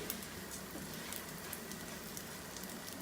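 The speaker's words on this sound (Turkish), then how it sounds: "Çıtır çıtır da sesler geliyor." Cracked bulgur toasting in a pan gives off a fine, continuous crackle with scattered tiny pops, faint and steady throughout.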